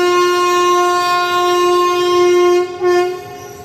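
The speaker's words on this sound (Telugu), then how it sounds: "ఈ ట్రైను యమ నాయిస్ చేస్తుంది" Dharmavaram Express train horn blaring loud and close in a long, steady tone at a station, cutting off briefly before sounding again near the end.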